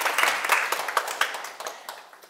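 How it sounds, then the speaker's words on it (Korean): A small audience at a lecture claps briefly: a scattered, uneven run of individual hand claps, close and moderately quiet, with distinct sharp slaps fading over a couple of seconds. "너무 좋은 질문 하시는데 박수 한번 쳐주세요."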